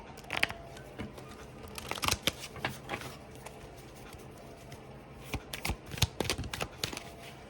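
Wild Unknown tarot cards are shuffled close by in quiet, irregular riffling bursts, with a cluster of flicks early on, a pause, then another flurry of papery snaps near the end.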